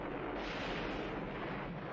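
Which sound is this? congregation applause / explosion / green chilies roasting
explosion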